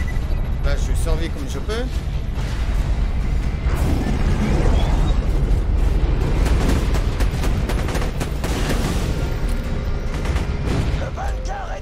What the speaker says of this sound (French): Tir de mortier.